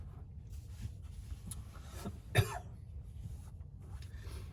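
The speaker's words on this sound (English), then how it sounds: "Got a dab cough going on right now" A single sharp cough stands out near the middle, close and fairly loud, against quiet background noise.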